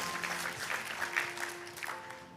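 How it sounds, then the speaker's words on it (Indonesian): Church congregation applauding during a sermon, a steady, fairly faint wash of clapping across the whole stretch with no voices over it. "Tepuk tangan buat Yesus."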